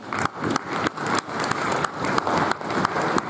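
Audience applause at a cricket league annual awards presentation, a dense steady clapping that fills the hall for several seconds, with scattered louder claps standing out, and no talk over it.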